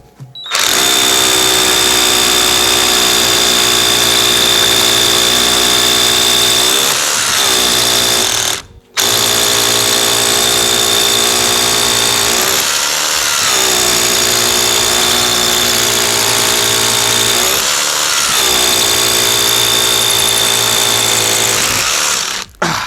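A Vitals Master ARa 1618-2P cordless rotary hammer with a Milwaukee bit drills continuously at full power for a long stretch, a loud hammering whine with one brief stop partway through.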